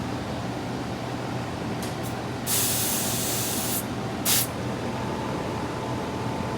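Refrigerant hisses through the high-side hand valve on an AC gauge set during a pump down. Short spurts come first, then a loud sustained hiss for over a second and one more brief burst, over a constant background hum.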